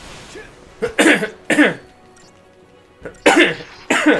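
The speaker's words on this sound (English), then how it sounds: "Which is why I also cough so much" Several harsh coughs in two bursts, a pair early on and another pair after a short pause, close and loud with no talking.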